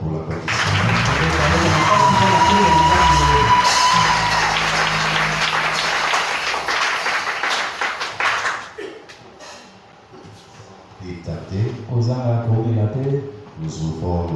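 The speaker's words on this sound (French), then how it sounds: "Acclamez très fort pour l'applaudissement." A French-speaking church assembly applauds loudly during a Sunday service, a dense burst of clapping with voices and a held tone over it, thinning out as speech and background sounds take over in the second half.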